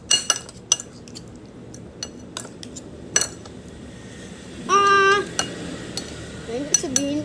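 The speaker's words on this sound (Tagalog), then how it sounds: "Halu-haluin nyo lang." A spoon stirring egg and mayonnaise in a bowl for an egg sandwich, sharp irregular clinks and taps of metal against the dish, with a brief scraping swirl midway and a quiet room behind.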